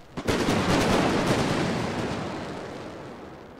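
Battlefield gunfire in a World War I strategy game, a sudden loud burst swelling into a dense rumbling barrage that slowly fades, heard alone and up close.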